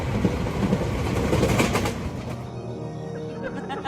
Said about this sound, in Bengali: ধোঁয়ার ভেতর থেকে বিশাল ভূত ট্রেন আসে।